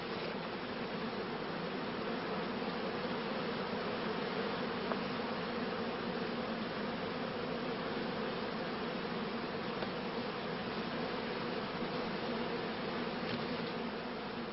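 Honey bees buzz on the comb in a dense, steady drone that holds at an even level throughout, close and unbroken, with no voices.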